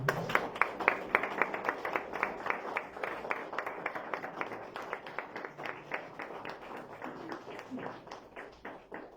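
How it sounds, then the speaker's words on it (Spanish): A church congregation claps together in a steady rhythmic beat that gradually softens and loosens toward the end, moderately distant with a hall's reverberation. "Denle un fuerte aplauso al Señor"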